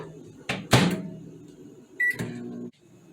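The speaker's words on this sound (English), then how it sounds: "we're gonna put this back in the microwave" Microwave oven in a home kitchen reheating low-carb bagel dough: door clunks and handling thumps, a short beep, then a brief steady hum before another click, with no talk.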